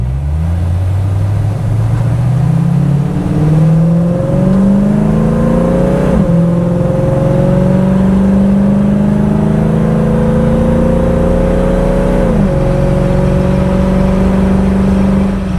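A 1968 Ford Mustang with a 289 V8 and automatic transmission accelerates hard on a test drive, its engine note climbing through gears with two clear shift drops, loud and steady from inside the car, no talking.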